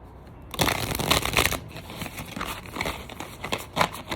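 A stiff gilded tarot deck being hand-shuffled, giving a dense papery rustle and crinkle of sliding cards that starts after a short quiet moment and continues in uneven bursts, close and fairly clear.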